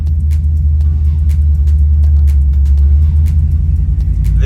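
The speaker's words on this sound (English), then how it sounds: "driving around the Freedom Factory right now" A car drives around the banked track at Cleetus McFarland's Freedom Factory, heard from inside as a loud, steady low engine and road rumble with light ticking and clicks over it.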